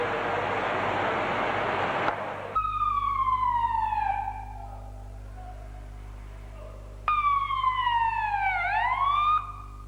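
A vehicle siren wails in repeated falling sweeps after a burst of broadband noise, with a steady low engine hum underneath and a pause between cycles.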